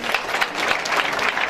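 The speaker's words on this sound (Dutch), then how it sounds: "Geef ze een groot applaus." Steady, dense applause from a crowd at a local community gathering in Waalwijk, continuous and fairly close with no voices over it.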